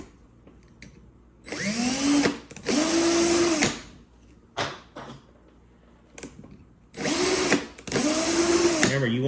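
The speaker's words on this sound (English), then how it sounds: "I'm drilling the backside now with the smaller holes" A power drill boring small 3mm holes into a part for a 1/6 scale tracked bulldozer model, several close, loud bursts of whining motor separated by pauses, with pitch rising as each hole starts.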